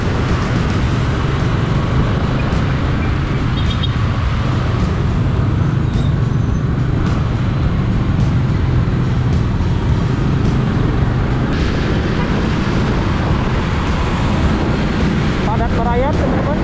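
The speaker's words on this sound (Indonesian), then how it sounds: "mobil-mobil yang putar balik" Holiday return traffic on a road in Bandung, cars turning back in a steady, dense rumble of engines and tyres, loud and close throughout, with a brief horn-like tone near the end.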